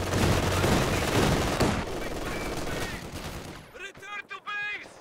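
Dense gunfire and machine-gun bursts rattle through a Company of Heroes 2 battle, loud and continuous for several seconds before thinning out, with a voice calling out over the last stretch.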